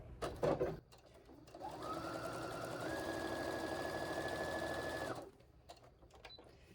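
A domestic sewing machine stitches a quilt block with a quarter-inch seam, running steadily for about three seconds with a rising whir mid-run. Handling noises come just before and after the stitching, close up.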